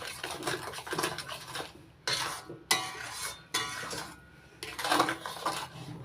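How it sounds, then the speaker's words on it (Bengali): A utensil scrapes and clinks against a pan as spices are stirred into raw mango over low heat, coming in several bursts of rhythmic scraping with short quiet gaps between. "সমস্ত মশলা দিয়ে নেড়েচেড়ে মিশিয়ে নিচ্ছি।"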